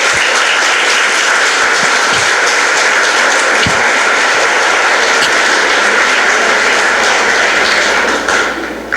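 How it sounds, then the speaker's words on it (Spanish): Church congregation clapping loudly and steadily, a dense, continuous roar of applause lasting several seconds before tapering off at the end. "Dale un aplauso al Señor."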